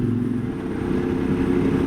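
A motorcycle travels a winding mountain road, the D63 toward the Gorges de la Jonte in the rain, its engine a steady low drone with rumbling texture, close and continuous.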